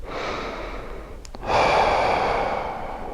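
Deep, slow breaths drawn during an arm-across-the-body shoulder stretch, a soft airy inhale followed by a louder, sustained breathy exhale, close and alone.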